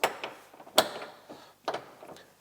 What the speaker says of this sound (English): This is a 2-position latch, so when you close it, you got to make sure you hear 2 clicks.